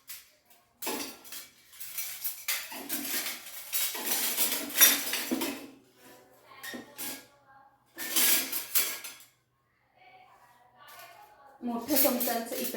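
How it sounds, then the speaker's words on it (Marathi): Metal spoons clink and rattle as they are set into a kitchen stand, in several separate bursts of jangling with quiet gaps between, and someone talks at intervals. "एलिफंट ठेवल्यानंतर मी इथे ठेवते आहे हे चमचे"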